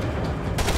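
A short burst of gunfire from Max Payne 3, a sharp close shot landing after a brief rumble, loud and quick with no talking over it.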